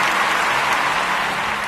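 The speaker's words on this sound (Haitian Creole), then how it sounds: "Applaudis pour moi." Dense applause from a crowd at a contest result announcement, a steady, loud wash of many hands clapping with no pauses, heard alone.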